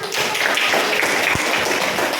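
A classroom of students in a civics lesson claps together in an even burst of hand claps, with scattered sharper claps and a faint background voice, lasting a couple of seconds.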